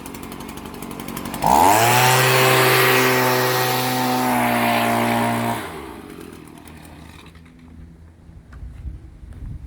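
A lawn mower engine starts up loud and near, holds a steady droning roar for about four seconds, then cuts out and winds down, leaving quiet outdoor background.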